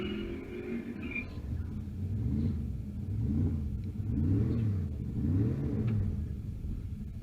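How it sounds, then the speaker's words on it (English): Drag racing cars rumble at a drag-and-drive event as they prepare for burnouts, a low engine drone with rhythmic swells of revving heard from some distance, steady throughout without talk. "getting ready to do their burnouts"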